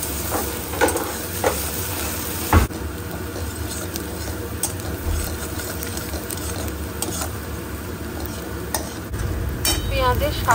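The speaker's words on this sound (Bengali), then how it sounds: "পেঁয়াজের সাথে আমি আদা আর রসুনটাকেও ভালো করে ভেজে নিচ্ছি" Onion, ginger and garlic fry in a pan for a Bengali vetki fish chop filling, a steady broad sizzle with stirring scrapes and a few sharp clinks, fairly loud throughout with faint background voices.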